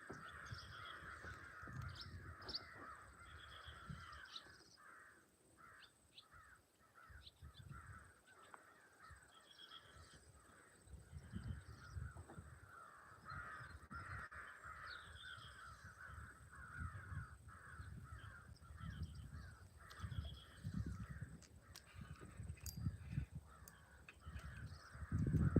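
A group of crows caws repeatedly by a fishing pond, harsh calls coming fairly far off and overlapping throughout, with low outdoor rumble and no talking.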